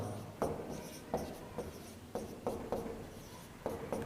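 Handwriting strokes during a biology lecture, a series of short scratching marks in an uneven rhythm, close and fairly quiet, with no talking.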